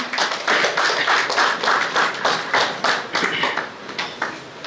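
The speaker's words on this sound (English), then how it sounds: "Please come forward and have a round of applause, please." An audience claps at a university convocation in India, with steady, moderately loud applause and a brisk, even rhythm throughout.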